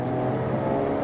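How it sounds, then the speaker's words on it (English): Jaguar F-Type S engine note heard as a steady, close droning roar with no break, brief and even in loudness. "Jaguars always have a great sound to them. It's just that sort of roar that they give to their cars."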